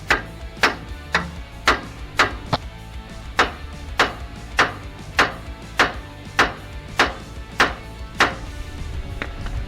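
Steel hammer striking the steering knuckle near a tie rod end on a 1988-98 Chevy/GMC C1500 pickup, with about sixteen sharp, evenly spaced metallic taps in a steady rhythm, close and loud, no talking.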